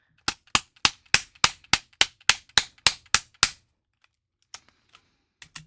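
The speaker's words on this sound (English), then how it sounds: "Cards out, cards back in." Twelve sharp plastic clicks in a quick, even rhythm as game cards are pulled out of and pushed back into a blue Nintendo DSi XL's card slot, close and crisp, followed by a few faint scattered taps.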